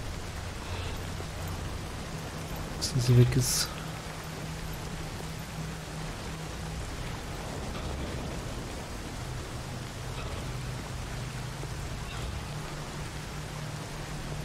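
Steady rain hiss from the video game Nioh fills the whole stretch at a constant, moderate level, with one brief louder clatter about three seconds in.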